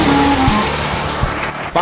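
A car breaking down on the road makes a loud, close engine rumble with a short whining tone, then a sudden dip and a sharp burst near the end.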